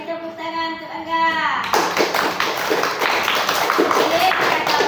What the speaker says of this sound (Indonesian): Beri tepuk tangan untuk Angga.